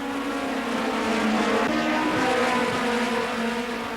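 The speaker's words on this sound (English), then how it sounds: "The BMW of Milos Bickel is the car that nearly loses it" A BMW touring car racing at Silverstone during the 1988 ETCC RAC Tourist Trophy, its engine a loud, sustained roar that swells and eases slightly over a few seconds, with no talk.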